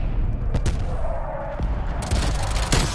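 Gunfire from a hostile strafe run in a Call of Duty match, dense overlapping shots and booms crackling in a continuous loud barrage with sharp bursts standing out.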